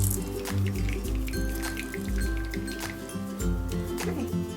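Grated zucchini squeezed by hand to wring out its liquid, with wet squishing and dripping in short repeated bursts, close and moderately quiet.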